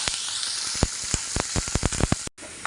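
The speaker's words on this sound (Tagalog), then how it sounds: "Isusunod naman po natin iprito yung ating po mga gulay" Potatoes fry in a pan for a stir fry, giving a constant bright sizzle laced with frequent sharp pops and crackles, close and fairly loud, ending in a brief cut.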